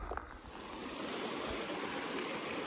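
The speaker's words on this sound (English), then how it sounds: "As we cross this little trickling creek, trickling brook across the Jeep road" Small trickling creek crossing a jeep road on a mountain hike, a steady close babbling of shallow running water, continuous and alone.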